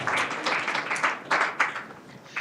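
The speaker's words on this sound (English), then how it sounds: "Let's give a round of applause." Audience applause after a conference talk at an academic session, a steady wash of many hands clapping with a few louder swells, moderately loud and fairly close, continuing for the whole stretch.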